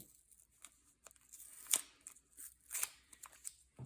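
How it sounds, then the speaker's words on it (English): Quiet, close rustling and scratchy peeling as masking tape is removed from straws, with a couple of sharper rips of tape pulling loose, irregular and soft. "We need to take the masking tape off of the straws."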